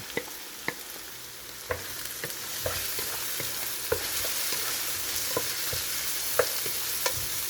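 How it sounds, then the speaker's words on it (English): Onion, ginger and chopped garlic sauté in a pan for beef tripe curry, with a constant sizzle and regular spoon taps and scrapes as the mixture is stirred, close and alone. "Saute until the garlic and the ginger, the aromas come out."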